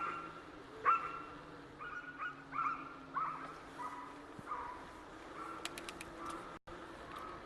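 Dogs barking somewhere in a quiet suburban neighborhood of Henrico County near Richmond, Virginia, a few distant yelps spread over several seconds, mixed with bird calls and faint outdoor background.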